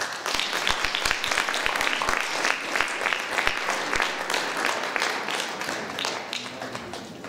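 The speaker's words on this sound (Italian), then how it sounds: "Ringraziamolo e facciamo l'applauso." Congregation at a church gathering applauding, a brisk mix of many hands with sharp close claps in front, steady for several seconds before easing slightly.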